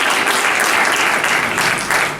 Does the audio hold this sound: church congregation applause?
yes